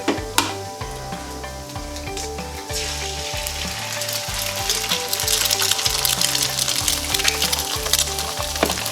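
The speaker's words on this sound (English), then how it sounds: "So now I'm gonna add the eggs on here." Brown eggs frying in a pan, with a continuous loud sizzle and crackle throughout, over a faint rhythmic background hum.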